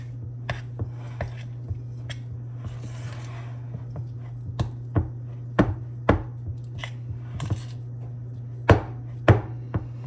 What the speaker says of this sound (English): Gonna cut up some onions in it and just season with a little salt and a little pepper